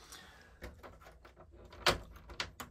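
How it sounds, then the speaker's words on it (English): A hidden door on a tiny wooden workshed being unlocked and opened: clicks of a key and latch followed by knocks and a louder thud as the door swings, close and without talk. "If I unlock this and take the key out, I can open that"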